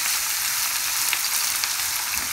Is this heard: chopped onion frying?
yes